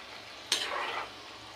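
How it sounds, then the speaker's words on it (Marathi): Alu vadi, colocasia leaf rolls, are turned in deep frying oil, producing a brief close swell of sizzling that rises suddenly and fades after about half a second. "तेलात असं फिरवून तळून घेतोय. साधारण 5 मिनिट तळून घ्यायचं असंच."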